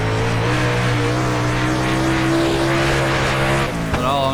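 Engine of a super late model race car in a racing game at Williams Grove, loud and close, holding a steady high whine while accelerating, then briefly dropping off and climbing again near the end, with a hint of tire squeal.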